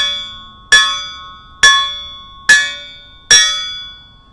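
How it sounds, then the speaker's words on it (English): A forged iron Siraya bell is struck with a piece of bamboo four times at an even pace, each sharp clang ringing out and decaying before the next hit. "It makes the bell sound."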